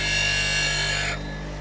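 A woodturning roughing gouge is ground against a sharpening wheel in a handmade wooden jig, a steady close rasping hiss over a machine hum that drops off near the end, with no talk.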